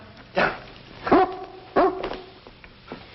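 A dog gives three or four loud, close barks with a whining tail, spaced irregularly over a quiet indoor background, then a faint yip, with no talking.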